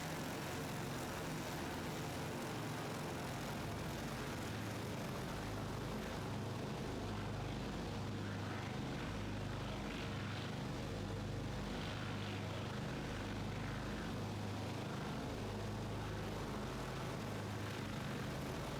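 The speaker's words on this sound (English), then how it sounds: "Okay, it's throttle back. And drop our RPM back a little bit to 2100 or something." In Microsoft Flight Simulator 2024, the engines of a vintage propeller airliner drone steadily at reduced throttle, holding a low, continuous hum with a faint beating texture throughout.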